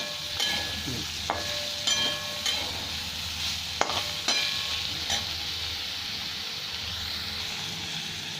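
Pointed gourd frying in a pan as washed moong dal goes in: a low steady sizzle with a few crisp scrapes and clinks of stirring, close and fairly quiet.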